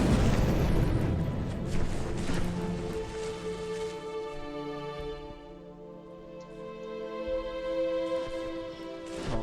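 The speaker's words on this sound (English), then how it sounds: "salvos are coming from the destroyers" Naval gunfire salvos from destroyers in a capital-ship sea battle game, heavy rumbling booms rolling into one another and loud at first, then easing into a long low reverberating roar with a tonal hum beneath.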